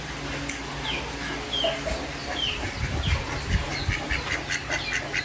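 Ducks calling in a farm yard after being let out, with short quacks and clucks scattered over a steady outdoor background, moderately close.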